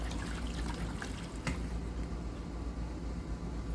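Waste water drains from an RV holding tank into a portable waste tank, giving a steady, faint trickle and gurgle of flowing liquid that continues throughout with no talking.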